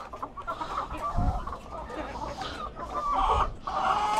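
Several chickens cluck continuously close by, with overlapping calls rising and falling in a busy, steady chorus.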